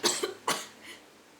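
Two sharp coughs close to the microphone, the second louder, then a fainter throaty catch, in a quiet room during an interview.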